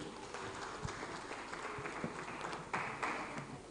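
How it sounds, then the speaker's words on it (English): Faint, distant applause from an audience at a university innovation day event, a soft, even patter of clapping with a few louder knocks and no voices. "A round of applause for him."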